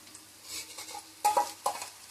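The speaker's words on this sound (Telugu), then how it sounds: "కొద్దిగా ఫ్రై అవనిద్దాము" Spices frying in a pan with a little turmeric for a ridge gourd and moong dal curry, a faint soft sizzle with a few sharper clinks of a spoon against the pan.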